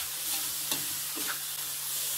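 Holy basil leaves are stir-fried in a hot pan with pickled bamboo shoots and minced pork in chili paste, giving a steady loud sizzle broken by a few scraping stirs.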